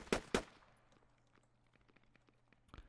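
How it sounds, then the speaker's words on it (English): Gunfire in the military shooter game Squad: two sharp, loud shots crack in quick succession at the start, faint ticking follows, then another abrupt shot near the end, with no speech. "We got shots northeast from you guys."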